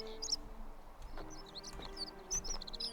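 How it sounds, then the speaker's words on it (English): Birds in the video game The Forgotten City chirp in short, high tweets scattered across the scene, set over a low ambient drone and faint music. "I like the bird noises."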